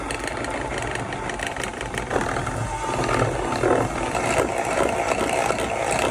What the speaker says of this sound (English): Mix this in a hand mixer or by hand. I'm just going to use my little KitchenAid.